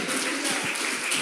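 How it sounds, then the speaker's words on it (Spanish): A church congregation claps in applause after a call to praise God during a Spanish-language sermon, a dense, steady wash of many hands held close for a brief moment. "Denle un aplauso a Dios por eso"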